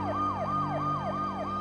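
A wailing police siren sweeps up and down in a steady, repeating cycle, loud and close, with no talk over it.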